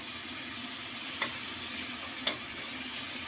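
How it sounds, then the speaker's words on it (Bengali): Green chili paste is stirred into a frying mixture in a pan, a continuous sizzle broken by two sharp spoon scrapes against the pan, with no talk. "এবার কাঁচা লঙ্কা বাটাটাকে এর মধ্যে ভালোভাবে মিশিয়ে নেব"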